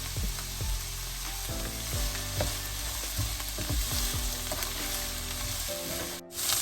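Onions sautéing in a hot pan for a vegetable-stuffed roti filling, a bright continuous sizzle punctuated by rhythmic scraping strokes of a spatula against the pan, close and loud with no speech.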